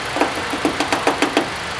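A Toyota Rush TRD engine idling close by, with a steady rumble and a regular ticking knock repeating about every quarter second.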